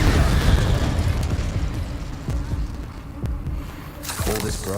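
Spell explosions in Hogwarts Legacy, a dense rumbling blast that rolls on for several seconds, then a fresh crackling burst near the end.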